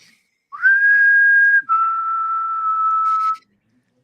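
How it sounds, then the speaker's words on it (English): A clear, loud whistled tone held steady, then dropping to a lower sustained note, alone against silence. "they mostly just want me to whistle."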